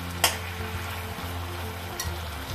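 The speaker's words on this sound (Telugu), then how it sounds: "ఫ్రై అవనిద్దాం కొంతసేపు." Ginger garlic paste frying in a pan for chicken kurma gives a steady, soft sizzle, with a couple of brief sharper crackles.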